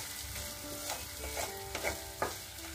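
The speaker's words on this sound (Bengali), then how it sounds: "ভালো করে একটু কষে নেবো মিনিট খানেক" Masala paste with sugar, made with a cashew, raisin and poppy seed paste, sizzles softly in a pan while a spoon scrapes and stirs it in a few brief strokes, close up with steady frying hiss.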